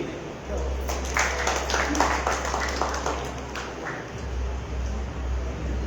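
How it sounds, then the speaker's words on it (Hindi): An audience at a poetry recital and award ceremony claps, with a scattered, moderate round of applause that rises and fades, overlapped by someone talking. "आप लोगों की तालियां मुझे कमजोर सुनाई पड़ रही"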